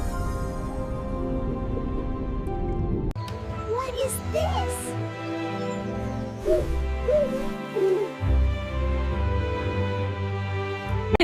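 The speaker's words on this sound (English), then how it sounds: "It's a snowy owl." Snowy owl hooting, with a voice speaking over and between the calls; the hoots come as several distinct, fairly clear notes above a steady background.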